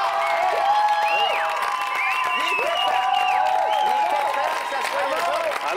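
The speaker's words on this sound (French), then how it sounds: "Alors, je veux qu'on les applaudisse, que ce soit intense." A studio audience on a French-language television show claps hard and steadily, mixed with shouts, whoops and whistling cheers, at full volume throughout.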